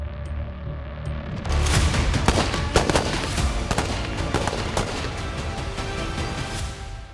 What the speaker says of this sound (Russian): где проходит тактическая стрельба и засадные мероприятия.